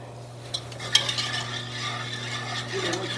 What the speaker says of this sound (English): And it said bring it up to medium heat to a simmer, whisking frequently.